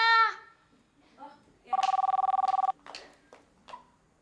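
A telephone bell rings in one burst of rapid trilling, with brief voices speaking just before and after it in a quiet room.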